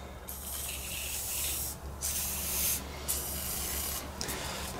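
Lubricant spray hisses onto a part of a free Honda engine in several steady bursts, close and fairly loud, separated by short pauses, with no talking.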